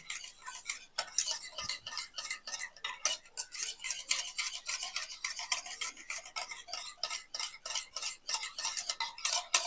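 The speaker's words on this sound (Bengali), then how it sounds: "আমি যে টক দইটা জল ঝরিয়ে রেখেছিলাম সেটা আমি ফেটিয়ে নেব ভালো করে" Strained sour yogurt being whisked for mishti doi: quick rhythmic clicks and scrapes of a utensil against a bowl, close and fairly quiet, steady and continuous throughout, with no voices.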